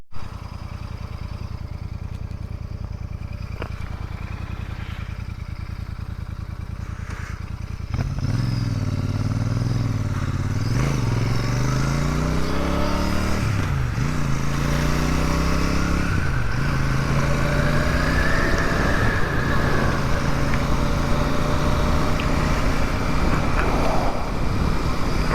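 On a winter ride, a Royal Enfield 650 Super Meteor starts with a low idle-like rumble, then revs up through several gear changes. Each shift brings a rising engine note, and a steady wash of wind and road noise runs throughout.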